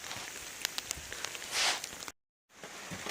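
Heavy rain falling outside, a dense steady hiss with scattered patters and drips, a louder surge before a sudden brief cut to silence, then the rain resumes.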